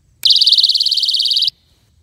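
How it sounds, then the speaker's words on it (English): RoboCop personal alarm set off by pulling its tab: one loud, piercing warbling shriek lasting a little over a second that then cuts out abruptly. "I'm going to pull this tab out and you're going to hear the alarm go off"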